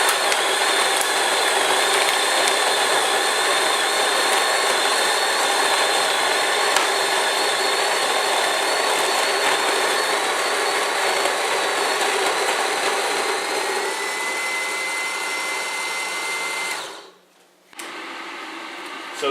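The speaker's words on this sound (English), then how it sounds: "Just drop that into the grinder. Pick that up to 3 and let it do its thing." A Capresso burr grinder grinds coffee beans at setting 3, giving a loud, steady, close mechanical whir with a rough hum. It runs for about seventeen seconds, then cuts off abruptly and starts again briefly.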